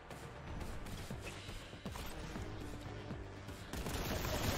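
Rapid bolt gun fire in the video game Warhammer 40k: Boltgun on hard mode, a dense, continuous burst of gunfire and impacts mixed with game effects at moderate loudness.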